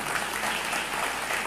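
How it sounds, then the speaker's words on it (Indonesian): Audience at an Indonesian leaders' community gathering claps in a brief, steady burst of applause that fills the short moment evenly at moderate volume. "berikan tepuk tangan ya"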